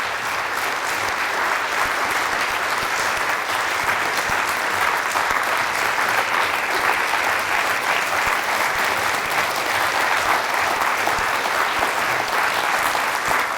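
An audience at a public lecture in Cardiff applauds steadily and densely, with many hands clapping at once. The applause is sustained and fairly loud throughout, with no voices standing out.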